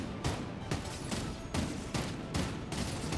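Bursts of gunfire from the video game Fortnite in arena mode, a loud, dense fusillade of rapid shots with distinct volleys roughly every half second, close and continuous throughout.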